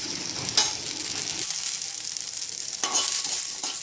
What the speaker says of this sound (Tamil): இந்த இஞ்சி பூண்டு, இந்த வெங்காயம், பச்சை மிளகாய், கருவேப்பிலை எல்லாத்தையுமே சேர்த்து ஒன்றாவே வதக்கிக்கலாம்.